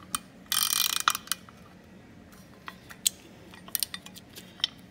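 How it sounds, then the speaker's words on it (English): A hand ratchet with a 1/2-inch socket turning a nut on the hydraulic pedal return bracket of a Kioti CK3510SE tractor, a fast burst of clicking pawl ratcheting, then scattered single clicks and metallic taps, close up. "I'll leave this nut right here on, take this one off, that way it's the same length. Use a 1/2-inch socket."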